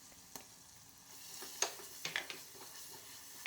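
Ginger garlic paste cooks in a pan with brinjal for gutti vankaya curry, giving a faint low sizzle broken by a few sharp ladle taps and scrapes, quiet and close with no talk.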